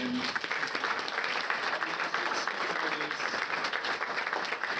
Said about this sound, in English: Can we also have a round of applause for Bob Seagren?